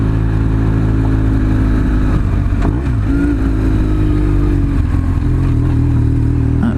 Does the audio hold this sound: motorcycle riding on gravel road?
yes